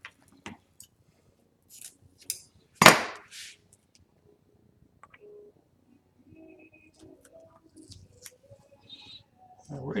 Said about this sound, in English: I cut that piece of tape exactly the length it needed to be